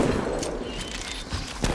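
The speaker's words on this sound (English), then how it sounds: "Enemy here. Opening fire." Rapid gunfire in a shooter video game, a heavy weapon and shotgun firing in dense bursts with an explosive crack near the end, steady and loud throughout.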